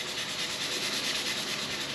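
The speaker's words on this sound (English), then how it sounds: "if you take your sandpaper, now this is 600 grit sandpaper, and if I just go over this lightly" Fine 600 grit sandpaper rubbed lightly over stainless steel gives a steady, close, airy hiss of continuous rubbing with no breaks.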